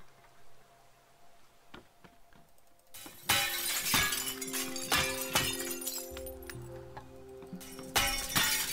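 Glass shattering in the video game Teardown, a burst of sharp crashing and tinkling debris that erupts after quieter clicks and continues in repeated breaking bursts, with low engine-like tones beneath.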